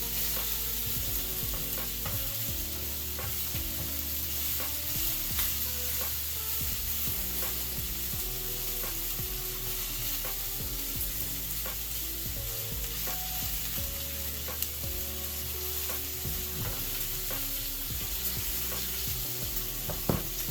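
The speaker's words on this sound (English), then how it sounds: "The goal here is to make your bacon golden brown and crispy" Bacon fries in a pan with a constant, dense crackling sizzle and popping fat, close up and steady throughout, with no one talking.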